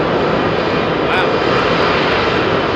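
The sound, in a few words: Aer Lingus CFM-powered Airbus A320 jet departing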